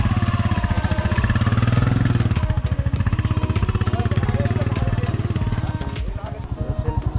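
Motorbikes leave a village picnic beside the Ganges, their engines chugging in a fast, rhythmic pulse close by and fading slightly near the end, with voices talking underneath.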